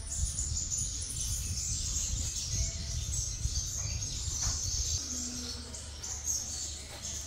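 Sunbird singing in a cage, a steady run of high chirping and twittering lasting throughout, with a low background rumble beneath.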